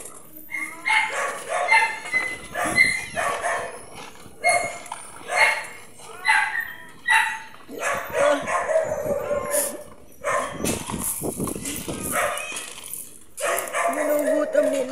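A puppy at an animal impounding facility barks and yips in repeated short bursts, fairly close, with other dogs joining in and people talking around them.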